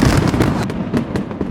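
Firecrackers bursting in a rapid crackling string, loud and close, with dense overlapping pops throughout.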